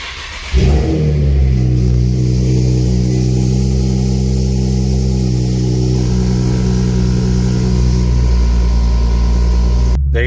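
A car engine starts right after its check engine light is reset following an oxygen sensor replacement for code P0138, catching within a second and then running loud, close and steady.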